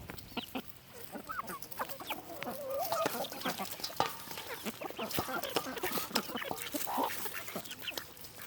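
Chickens cluck and squawk busily at close range while being fed eggs, overlapping calls and sharp peck-like clicks from a small flock, steady and lively throughout.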